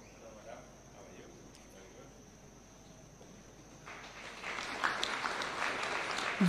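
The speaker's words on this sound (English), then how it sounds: "A round of applause for the" At a Kenyan top-taxpayer awards ceremony, the crowd applauds the National Intelligence Service's award; after a few seconds of quiet room tone the clapping swells in and builds steadily, somewhat distant.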